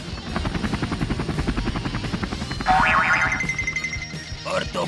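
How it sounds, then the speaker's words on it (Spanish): Toy emergency helicopter flying in a Pinypon Action play scene, a pulsing whirring rotor sound with a bouncy boing-like tone, under lively voices. "el helicóptero de emergencias para ayudaros"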